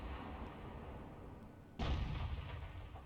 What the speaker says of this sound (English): So I might lob a shell into that position.